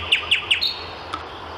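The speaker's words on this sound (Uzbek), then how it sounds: "Qo'shig'in boshladi bulbuli go'yo." A nightingale sings in a recited fable: three quick, bright chirps in close succession, then a softer trailing call, heard near and clear with no talking over them.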